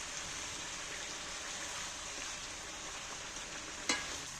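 Chicken pieces fry in a pan with a steady, even sizzle that carries through without a break, and a single sharp clink lands near the end.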